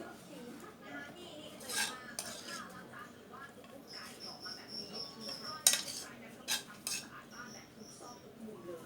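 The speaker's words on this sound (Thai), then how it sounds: "คนให้มันเข้ากันจ้ะ" Pork and mango salad ingredients stirred in a bowl with a utensil, giving light scraping clinks of cutlery against the dish that repeat steadily, with a few sharper knocks, close by and fairly quiet.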